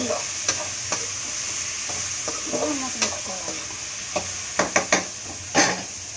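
Bitter gourd curry sizzles in a pan while a spatula stirs it, with intermittent scraping clicks over a steady frying hiss and no speech.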